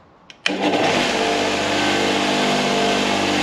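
A second-hand bench grinder's wire wheel cleaning Morris Minor valves spins up with a sudden onset after a couple of faint clicks, then holds a loud, steady whirring hiss with harsh scraping.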